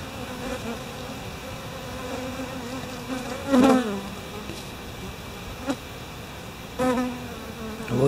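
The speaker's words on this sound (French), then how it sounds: "on voit bien la masse d'abeilles qui se groupent sur le frelon" A dense, steady hum of many honeybees buzzing close by as they mass on a hornet, with a few louder swells as individual insects pass near.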